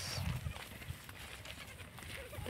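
Goat kids bleat faintly while grazing in an open pasture under rainy weather, a few short cries set against rustling outdoor noise and nearby talk.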